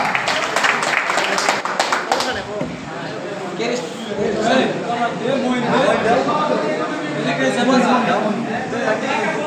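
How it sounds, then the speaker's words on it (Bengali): Applause for a special guest at a pigeon club award ceremony, scattered clapping from a crowd breaking out beneath an announcer's voice and chatter, moderately loud and close. "করতালি হোক সোহান ভাইয়ের জন্য একটা"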